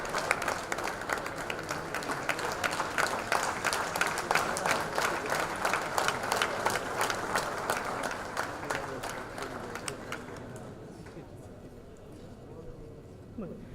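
Audience applause fills an award ceremony hall, dense sustained clapping from a large crowd that thins and fades out toward the end.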